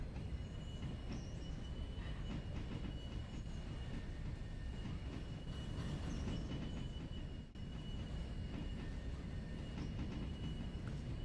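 A train in the Railroader game rolls along its rails with a steady, loud rumble and clatter of wheels, a faint high squeal running over it and one brief dip in the noise partway through.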